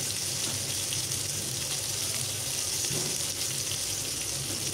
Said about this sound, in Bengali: এই তো মাছগুলো সুন্দর করে ভাজা হয়ে গেছে